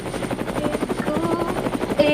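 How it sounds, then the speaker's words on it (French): A helicopter sound effect plays back in a French dubbing studio: a loud, steady rotor thumping with a rapid chopping rhythm throughout, close and continuous, with no talk over it. "Hélico."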